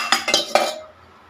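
Kitchen utensils clinking as they are washed at home, three or four quick metallic clatters up close, then fading to quiet, with no talk.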